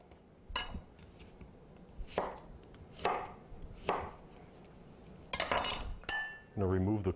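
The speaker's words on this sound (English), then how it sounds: "Cut it in slices." A knife cuts an overripe pear into slices on a board in a home kitchen, giving several sharp, separate chopping strikes at an uneven pace, followed by a few clinks of dishes and cutlery. A person speaks in the background.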